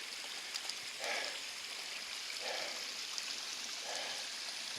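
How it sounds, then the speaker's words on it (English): A spring runs into Piney Creek in wilderness, giving a soft, steady trickle with faint splashes recurring about every second and a half, quiet and without voices. "There's a spring running into Piney Creek right down there."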